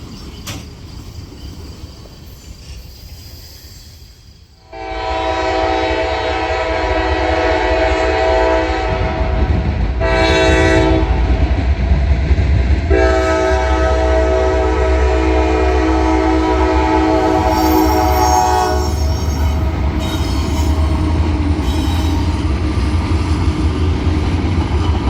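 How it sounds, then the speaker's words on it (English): A southbound Norfolk Southern freight train rolls past on the main line at Marion, its loud multi-tone horn blaring in long blasts over the heavy rumble and clatter of passing cars, close by and continuous. "one more NS freight heads south on their main line"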